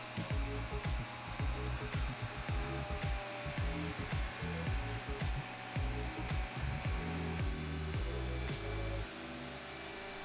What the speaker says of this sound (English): routing that shape out on the actual workpiece with my fancy new trim bit